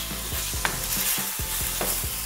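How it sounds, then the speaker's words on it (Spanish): Meat sautéing in hot oil for a caigua stew, a steady loud sizzle with repeated scraping stirs of a spoon against the pan, no voices. "He estado moviendo acá, sofriendo la carne por 5 o 6 minutos"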